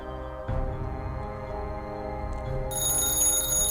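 A telephone rings inside the Calm Down, Stalin video game, a steady electronic ring that grows brighter and louder near the end over a continuous low hum.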